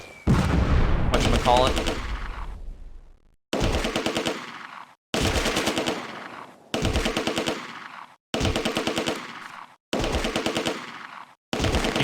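Bursts of machine-gun fire and gunshots in the Close Combat war game, set at a bridge, come in six loud, evenly spaced volleys, each about a second long with short silences between, and a brief voice is heard near the start.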